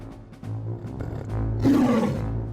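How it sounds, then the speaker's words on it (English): At a circus, a tiger and a lioness attack a performing horse with loud, close, rumbling roars that build and swell over a few seconds, with no talking. "At a circus, a tiger and a lioness suddenly attack a performing horse."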